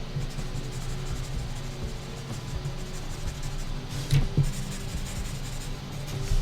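A chisel-tip Sharpie marker shading back and forth on paper, soft rhythmic scratchy strokes close up, with a couple of firmer taps near the end.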